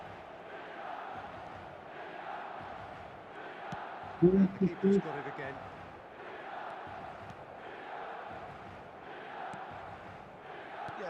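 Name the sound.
crowd noise in efootball video game match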